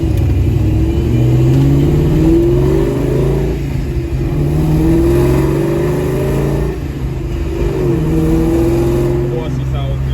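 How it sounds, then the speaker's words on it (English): A 2003 Ford Mustang GT with full bolt-ons, intake, heads and long-tube headers revs loudly and close by, its engine rising and falling in repeated pulls over about ten seconds. "2003 Ford Mustang GT, full bolt-on, professional product intake, pace setter head, long tube headers"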